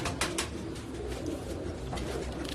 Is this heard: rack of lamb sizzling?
no